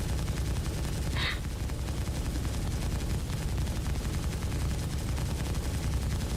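Ship guns in Star Citizen fire in a loud, dense barrage of rapid rumbling bursts that runs continuously over several seconds, close and heavy, with faint talk mixed underneath.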